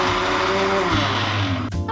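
A loud, steady whirring roar of a mixer grinder grinding coconut and shallots, cutting off abruptly near the end.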